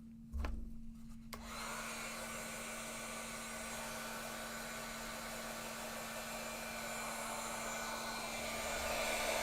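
A heat tool switches on and blows hot air onto craft stamping foam, a steady close whooshing roar after a brief clunk at the start, continuing unbroken and rising slightly toward the end.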